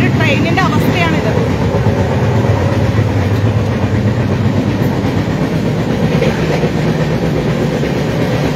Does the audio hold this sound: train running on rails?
yes